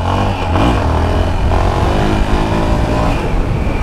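A Yamaha XT660 motorcycle engine revs hard and steadily while the bike is held up in a wheelie, a loud, close, continuous roar with rising and falling pitch and no talk over it.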